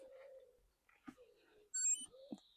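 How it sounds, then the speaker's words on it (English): A 1999 Mercedes SLK's ignition is switched on, giving a short, bright electronic chime of a few stacked tones that sounds briefly amid quiet cabin clicks and faint movement. "So let's go and turn the ignition on."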